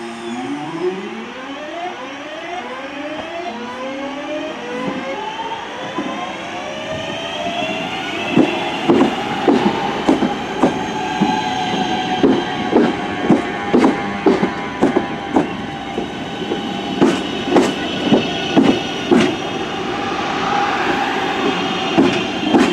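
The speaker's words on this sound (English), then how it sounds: "But we're now arriving into Glossop station." A train pulls into Glossop station on the Woodhead Route, with rising and falling motor whine, then a steady run of rhythmic wheel clicks over rail joints as it slows, with no voices.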